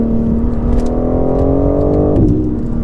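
A 2020 BMW M4 Competition's engine hums at a rising pitch, then briefly dips as the car shifts up and the pitch climbs again, sounding smooth and synthetic, with artificial engine sound played through the speakers.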